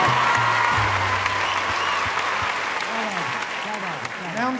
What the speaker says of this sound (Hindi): एक बार दोनों हाथ उठा के तालियां बजाइए नीरज जी।